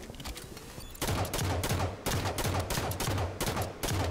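Rapid bursts of automatic gunfire from a Halo Team Slayer match, loud and close, coming in several rhythmic strings separated by brief pauses.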